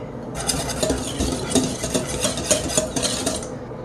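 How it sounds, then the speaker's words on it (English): Wet ingredients for spiced cake cookies being whisked in a bowl, a quick rhythmic clatter of metal wires against the bowl, close and continuous for a few seconds. "And grab my handy dandy whisk."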